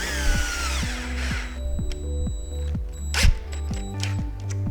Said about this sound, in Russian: И я сейчас докручиваю гайку Эриксона и притягиваю раму к стене.